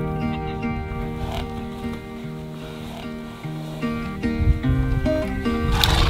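A horse on a farm being introduced to emus whinnies and neighs over a steady, fairly loud background of animal noise that swells toward the end.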